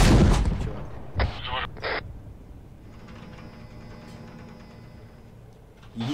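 In the video game Arma 3, a recoilless gun fires with one heavy boom at the start, then a few sharper cracks follow over a low rumbling battlefield background.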